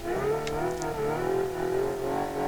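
A car engine revs and strains while held in second gear during video game driving, a steady harmonic drone with slowly wavering pitch, loud and continuous throughout.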